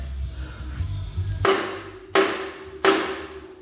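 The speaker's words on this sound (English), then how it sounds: "We're going to take a hammer and see if we can create a little drama" A hammer strikes the cross shaft bolts on a 1957 Chevrolet, three sharp metallic clanks with a ringing decay, evenly spaced and close, after a low background rumble.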